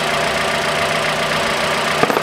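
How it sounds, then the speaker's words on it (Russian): A 2013 Mitsubishi ASX 1.8 engine idles evenly and steadily close up after new spark plugs, a smooth constant hum with a brief clunk at the end. "Сейчас двигатель работает, его не протряхивает."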